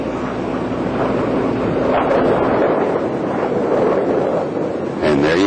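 Space Shuttle Atlantis rolls out on runway 22 at Edwards Air Force Base after landing, heard as a loud, continuous broadband roar with rushing, wind-like noise throughout.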